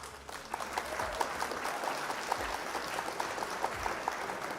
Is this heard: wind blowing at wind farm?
no